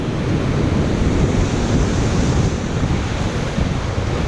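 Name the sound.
ocean waves rushing in on rocky shore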